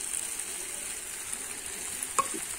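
A fried and ground spice paste sizzles in a pan with potato and young jackfruit, a continuous close hiss with a sharp clink of the stirring spoon near the end.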